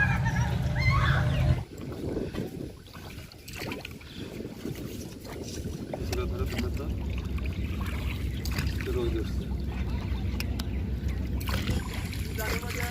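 A boat moving through floodwater, with water sloshing and wind buffeting the microphone, a brief louder rumble at the start and then a steady wash of water while people talk nearby.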